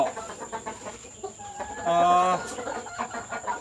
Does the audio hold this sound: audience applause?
no